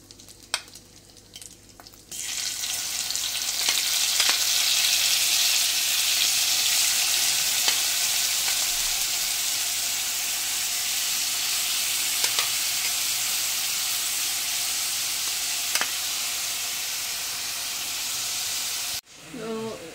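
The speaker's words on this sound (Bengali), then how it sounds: "এবারে এই যে চিংড়ি মাছগুলো, এগুলো আমি ভেজে নেব এখানে" Prawns frying in hot oil in a pan for a restaurant-style prawn dish, a loud, steady, close sizzle that starts abruptly and holds for many seconds, with occasional stirring clicks before it cuts off.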